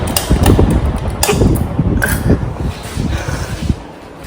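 A 56-inch TroposAir Tornado industrial ceiling fan runs close by, a loud steady rushing whoosh with rhythmic thumping pulses from the blades.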